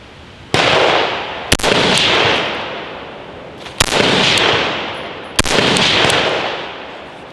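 Four sharp, loud gunshots fired about a foot from a paper target, spaced unevenly across the span, each crack followed by a long fading echo of ringing noise, with no talking.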